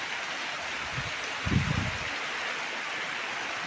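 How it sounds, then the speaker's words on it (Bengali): Steady heavy rain during a storm, a dense even hiss throughout with a brief low rumble of added noise near the middle. "কত ঝড় বৃষ্টি হচ্ছে তাতে"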